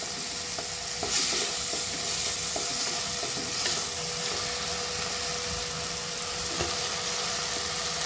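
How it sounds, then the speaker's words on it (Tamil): Chopped tomatoes with ginger-garlic paste sizzle and fry in a pan for an egg omelette curry, a steady broadband hiss under repeated clinks and scrapes of stirring, close and continuous with no talking. "இப்போ நல்லா தக்காளியெல்லாம் வெந்து வருது பாருங்கள்"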